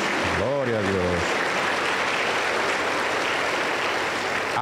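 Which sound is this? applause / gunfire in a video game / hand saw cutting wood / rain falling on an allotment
applause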